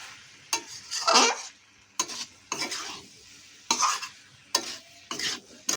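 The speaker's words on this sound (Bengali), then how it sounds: "দিয়ে ভালো করে আমরা তো পুরো মশলাটাকে ওল আর আলুর মধ্যে মাখিয়ে নেব" Spice mix being stirred into elephant foot yam and potato in a hot pan, with repeated bursts of scraping and sizzling strokes, each a second or so long, close and fairly loud with brief pauses between.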